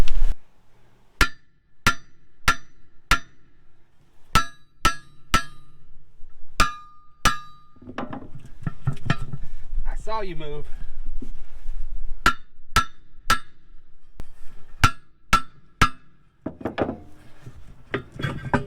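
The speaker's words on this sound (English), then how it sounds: "that's gonna need to be hit with a hammer" Sharp metallic hammer blows ring out in uneven bursts on a 1975 square-body dump truck with locking brakes, loud and close, with a person speaking briefly in between.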